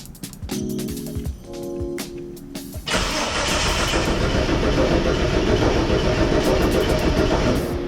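A Ford XE Falcon engine cranks with rhythmic starter chugs, then catches and settles into a steady, loud idling rumble that continues to the end.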